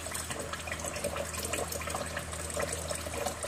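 Water runs steadily from a faucet during medical hand washing, a soft continuous splashing stream with no talk.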